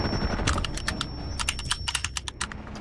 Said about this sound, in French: j'entends tout ton clavier.